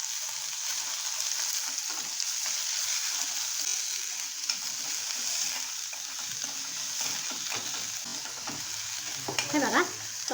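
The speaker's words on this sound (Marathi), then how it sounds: "आता आपण कांदा ॲड करूया." Chopped onion sizzles steadily in a hot pan with garlic and curry leaves while a spoon stirs and scrapes it in irregular strokes, close and moderately loud, the scraping growing busier near the end.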